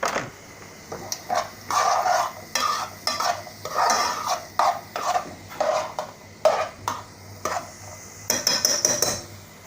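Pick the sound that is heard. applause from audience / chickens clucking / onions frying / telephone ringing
onions frying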